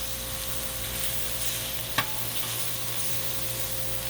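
Thawed, cut chicken breast frying on a Blackstone flat-top griddle, a constant close sizzle with a low steady hum beneath and one sharp metallic tap midway, no talking.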